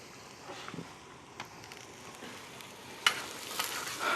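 Onions with a little salt sautéing in a pan for an Indian curry, giving a soft continuous sizzle with occasional stirring scrapes and small pops, faint and close, no voices.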